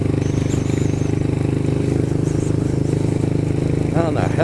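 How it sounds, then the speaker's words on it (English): A motorcycle engine, running on only one cylinder after a plug wire came off, chugs loudly in a steady uneven pulse close by, with a voice speaking briefly at the end. "So I'm only running on one cylinder right now."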